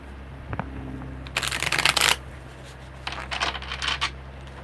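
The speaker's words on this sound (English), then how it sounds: "Okay, one more good shuffle." Tarot cards shuffled close by in two bursts of crisp riffling, a longer one and then a shorter run with pauses, each followed by quiet.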